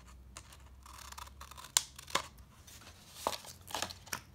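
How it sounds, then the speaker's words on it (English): Scissors cutting paper or craft material to even the sides of a small teepee model, a few sharp, quiet snips spaced apart amid soft handling rustle. "I'm going to cut off a little bit more on this side so that they're even."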